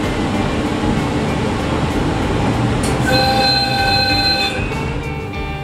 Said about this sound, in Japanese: 高架区間に入ると列車は琴音駅を通過します